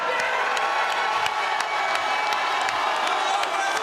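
A large political rally crowd cheers and applauds as Attorney General Daniel Cameron is welcomed to the podium, a dense sustained roar of whoops, shouts and clapping filling the hall.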